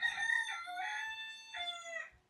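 A rooster crows twice in a row in a village, loud and close, each call a long, strained cock-a-doodle-doo, with no voices around it.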